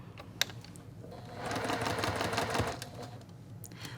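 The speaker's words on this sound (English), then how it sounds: "First, start stitching." A sewing machine stitches a quilt block in a short, fast run of rattling needle strokes, rising in the middle and then stopping, with a few faint clicks around it and no talk.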